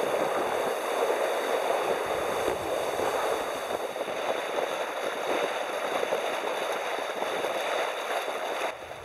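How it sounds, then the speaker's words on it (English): A boat powers through the sea, its hull shoving water aside in a continuous loud rushing wash with steady engine and wind noise and no let-up. "Powering up, and look at that water being pushed out the way."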